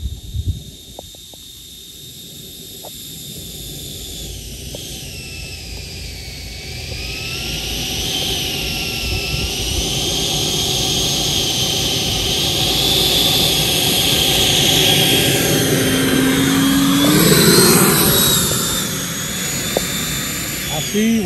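An E-flite Viper 90mm electric ducted fan model jet on its maiden flight whines steadily overhead, its high-pitched fan tone rising and shifting as it passes and swelling louder toward the end, with a voice heard faintly early on.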